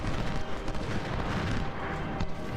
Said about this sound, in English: And oh no, more artillery.